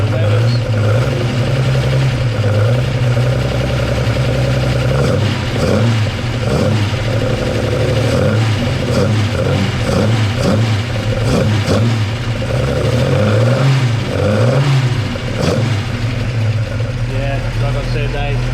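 A Dodge Charger Six Pack engine, unrun for over twenty years, runs loud and steady close by with repeated revs rising and falling, while people talk over it.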